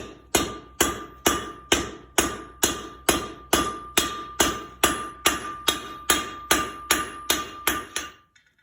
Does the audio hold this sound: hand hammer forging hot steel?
yes